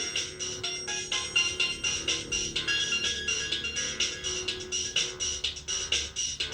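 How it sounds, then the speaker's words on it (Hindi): A phone ringtone plays continuously, a bright repeating electronic melody with a steady pulsing rhythm, fairly close and clear. "अंकिता का फोन है पूजा के फोन पे।"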